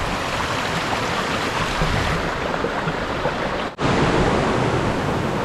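Waterfall at Lembah Karaeng in Gowa, heard from the top of the falls: a loud, constant rushing roar with a brief dip near the end, and no talking.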